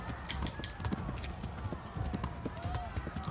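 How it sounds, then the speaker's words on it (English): Galloping horse in the game Kingdom Come Deliverance, steady rhythmic hoofbeats at low volume with a brief whinny-like tone over a soft game soundscape. "Okay, I'm on a horse."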